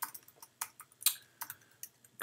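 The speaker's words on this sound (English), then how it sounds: "And we start by typing Heroku apps" Keyboard typing at a computer while entering a Heroku app command, a quick run of close, light key taps in an irregular rhythm with short pauses between bursts.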